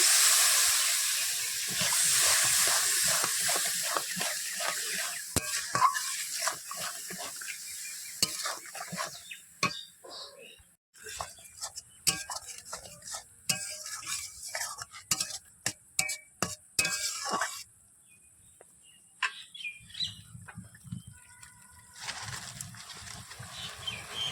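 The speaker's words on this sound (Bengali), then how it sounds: "সামান্য জল দিয়ে নাড়াচাড়া করে নেব" Mustard-poppy paste with a little water being stirred in a pan, with repeated scraping strokes and soft sizzling that start loud and busy, then turn intermittent with pauses, heard close and without talk.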